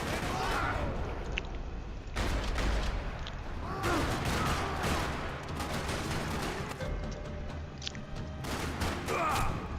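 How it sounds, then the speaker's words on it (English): Rapid bursts of gunfire in a parking lot in the video game Max Payne 3 crackle and boom in overlapping volleys, loud and continuous, like a chaotic firefight with occasional distant echoes. "Another parking lot rattling with gunfire."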